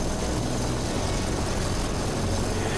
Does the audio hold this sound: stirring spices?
no